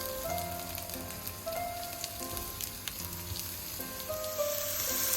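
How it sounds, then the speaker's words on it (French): Mushrooms fry in melted butter in a pan, giving a continuous bright sizzle with crackling pops, accompanied by soft background music. "Je fais revenir les champignons dans la poêle."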